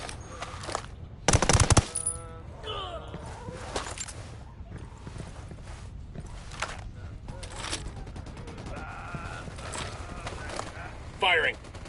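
Automatic gunfire in the tactical shooter Ghost Recon Wildlands, a loud burst early on followed by scattered shots and game effects, with voices talking over the action.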